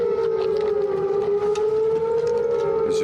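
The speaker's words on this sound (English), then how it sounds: "the sirens go off, and they said we're under mortar fire" A civil defense siren wails steadily at a military base in Afghanistan, warning of incoming mortar fire; one loud, sustained rising-falling tone fills the whole stretch with no talk.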